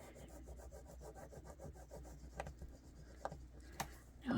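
A tool scrapes the coating off an altered playing card, a faint, rhythmic rasping of quick short strokes followed by a few sharper isolated scrapes and taps.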